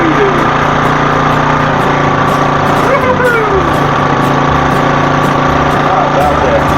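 A Sportsman vehicle engine runs indoors in a garage, a loud, close, steady mechanical drone with a high whine that holds unbroken throughout.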